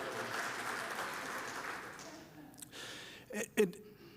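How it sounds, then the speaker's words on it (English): Church congregation applause, a soft, distant wash of clapping that fades out midway, followed by a few isolated sharp sounds and a brief voice near the end. "Give a round of applause for Larson."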